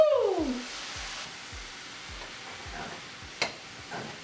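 Vegan stir-fry noodles sizzle in a hot pan as soy sauce goes in, a steady hiss with a sharp splash at the start and repeated soft scraping stirs throughout, plus one brief clatter near the end.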